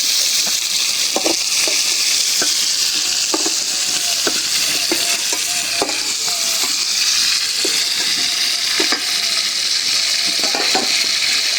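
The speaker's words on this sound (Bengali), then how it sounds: "মাছ ভাজা হয়ে গেছে উঠাই নি" Steady, loud sizzling of fish frying in hot oil with turmeric and chilli powder, with occasional stirring scrapes and clinks throughout.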